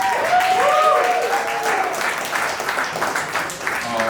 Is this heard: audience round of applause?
yes